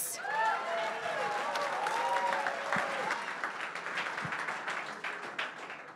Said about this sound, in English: Everybody clap for Compass.